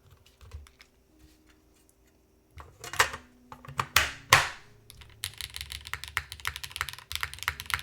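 Keys clatter on a mechanical keyboard with its case fitted, a brief burst of clicks followed by several loud clacks and then a quick, close run of typing.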